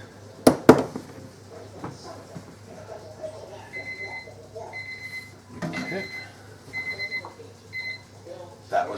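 A kitchen timer beeps in repeated short bursts while roast pork is being cooked, ringing out over clattering pans and a few loud knocks, with people talking nearby.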